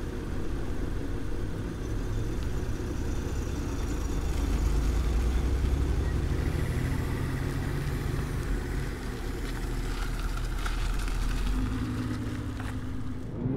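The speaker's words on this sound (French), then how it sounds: "allons profiter du bruit du V6" A steady low V6 engine rumble from a car on the move on the road, loud and continuous throughout, with road noise and no talking.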